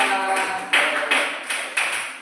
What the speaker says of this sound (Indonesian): Tepuk tangan untuk kelompok Madinah